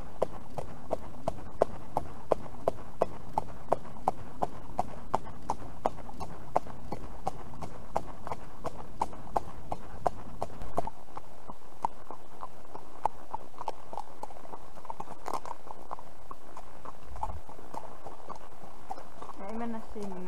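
A horse out on a trail ride clip-clops in a steady, even rhythm of close hoofbeats, with a rider speaking in Finnish over the walking steps.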